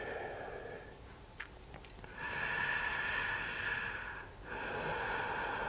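Slow, audible breaths during a gentle yoga stretch done while sick, a soft sniff-like inhale followed by longer airy exhales, close and quiet with no talking.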